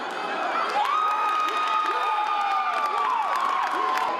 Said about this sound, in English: the large crowd cheers